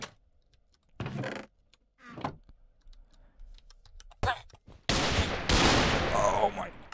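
Video game gunfire comes in short sharp bursts, then a long sustained rattling volley at the end, loud and close, mixed with clicks and movement noise.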